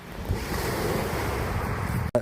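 Sea waves wash against the Batumi shore in a brief, steady rush of surf mixed with wind buffeting the microphone, ending in a sharp cut.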